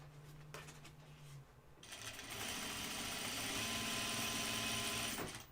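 A sewing machine top-stitches Cordura patches onto a flight suit garment, a steady rapid mechanical whirring that starts after about two seconds and runs loud and continuous until near the end, with no talking.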